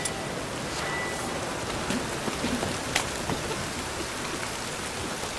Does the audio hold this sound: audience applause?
no